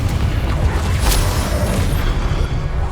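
A Confringo blast curse explodes in Hogwarts Legacy, a loud booming burst with a sharp crack near the middle and a dense, rumbling roar that continues throughout.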